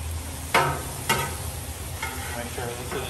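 Philly cheesesteak meat sizzling steadily in a pan, with a few sharp scrapes of stirring cutting through the constant frying hiss.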